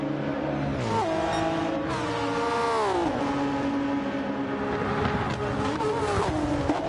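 Race cars roar around Mount Panorama in Gran Turismo 7, two engines climbing and dropping through gear changes as they fight wheel to wheel, loud and continuous with a commentator's voice running over them.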